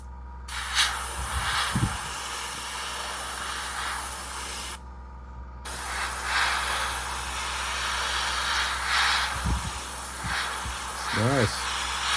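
An airbrush sprays paint over spoons in steady, continuous hissing bursts, briefly cutting out once, with a few soft thumps and squeaky sounds nearby.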